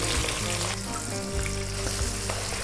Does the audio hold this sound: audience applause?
no